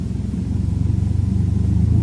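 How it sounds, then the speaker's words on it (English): A light airplane's piston engine idles at low power during a pre-flight run-up, giving off a steady, pulsing low rumble that stays close and loud and builds slightly, with no voices. "reduce the power all the way to an idle setting to make sure the engine still runs at idle"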